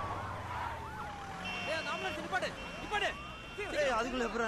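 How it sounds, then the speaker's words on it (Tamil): An ambulance siren wails from a film playing on a screen, sweeping up and down loudly over honking and street noise, while people talk and react over it. "ஏய் அதுக்குள்ள அப்புறம் ஆம்புலன்ஸ் வந்துச்சு."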